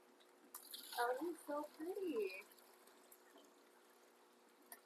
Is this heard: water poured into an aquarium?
yes